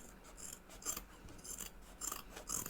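Sharp scissors trimming fabric binding on a sewing project bag, a series of crisp, close snips and rasps repeating in a quick uneven rhythm, quiet and alone.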